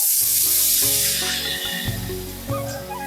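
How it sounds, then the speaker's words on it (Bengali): Water poured into a hot wok where turmeric and spices have been frying for an eggplant and hilsa fish curry, giving a bright, steady hissing sizzle over continuous background music. "এবার আমি কড়াইয়ের মধ্যে দিয়ে দেবো কিছুটা পরিমাণ মতো জল"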